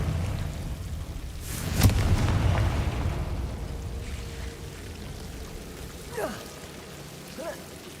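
A fire-blast spell bursts in a wizarding-school action game, a sharp explosive crack followed by a crackling, rumbling tail, with a couple of softer whooshing magical effects afterward, all loud and near.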